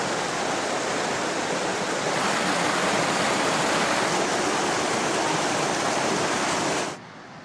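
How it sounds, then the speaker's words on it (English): Old Gang Beck, an upland stream, rushes in a loud, continuous broadband wash close by, steady throughout before dropping away sharply near the end. "That's the same watercourse that we were looking at earlier when we began the walk, but up here it's called Morley Gate or Old Gang Beck."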